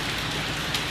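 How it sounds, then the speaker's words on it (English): Heavy rain pours down outside, a dense, constant hiss of downpour with no breaks. "I'm sure you can hear it. Raining like heck."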